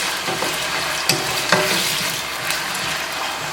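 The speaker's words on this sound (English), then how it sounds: "So I always fry it before adding in the spinach." Potatoes frying in a pan for aloo palak, a steady close sizzle with a few brief clicks and scrapes of a utensil; no voices.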